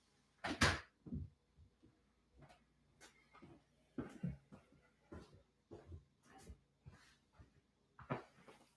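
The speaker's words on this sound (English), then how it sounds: "I have to shut this door." A door is pushed shut indoors, giving a sharp knock followed by a series of softer clicks and bumps that fade into near quiet.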